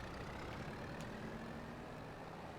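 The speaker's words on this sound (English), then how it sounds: "Fire up the tractor here" A tractor engine in Farming Simulator 22 runs with a steady, low rumble that stays faint and even throughout, with no voices over it.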